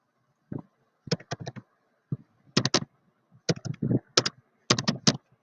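Bursts of typing on a computer keyboard, with clusters of crisp, close keystrokes separated by short pauses in an otherwise quiet room.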